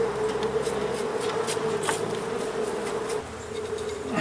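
A dense, steady buzz of many honey bees swarming inside a hive, continuous and close, with no voices over it.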